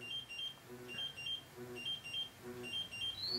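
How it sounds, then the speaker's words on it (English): A Draeger X-am 2000 portable gas detector sounds its alarm during a bump test in a docking station, giving quiet, repeating rapid double beeps in a steady rhythm over faint background noise. "You can see the sensors increasing and the alarm levels as it hit A1 being low alarm, A2 being a higher alarm."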